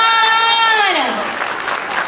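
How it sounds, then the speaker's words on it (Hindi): An indoor audience at a crypto token launch event in Jaipur claps loudly, a dense wash of applause that swells in after a brief descending tone and carries on steadily to the end. "Give a huge round of applause, everyone."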